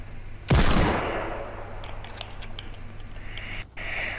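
Gunfire in the Fortnite video game: one loud, sharp burst up close that decays into a long rumbling tail with a low steady hum underneath, and a brief second crack near the end.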